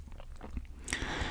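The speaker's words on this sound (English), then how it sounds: "There will be gum chewing in this video." Close, moist gum chewing with soft smacks and crunchy bites repeating in an irregular rhythm, growing louder and more textured near the end, with no talking over it.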